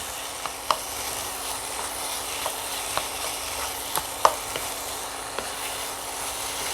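Paneer bhurji with tomato and capsicum sautéing in a pan, dhaba style, an even, steady sizzle with occasional light ladle taps and scrapes, close and consistent throughout, no speech.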